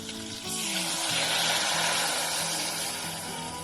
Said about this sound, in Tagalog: then the marinated beef. Then we will stir it until it's tender.